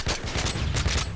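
Rapid gunshots from Modern Warfare 3 multiplayer, a quick run of loud, closely spaced cracks repeating several times in just over a second, with no talking.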